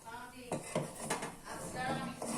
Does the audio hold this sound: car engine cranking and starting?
no